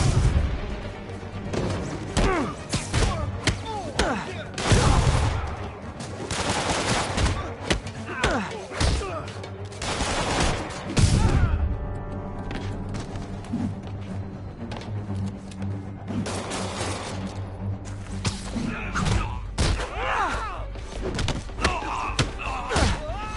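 Gunfire and heavy thuds from armed enemies during a Marvel's Spider-Man fight on PS4, loud bursts and impacts scattered through the scene under game music and voices.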